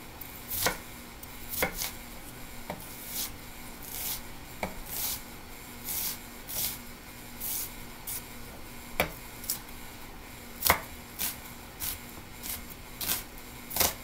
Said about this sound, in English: I'll take my onion, have it all nice and laid out, no tears, mind you. Okay, and I'm just going to cut it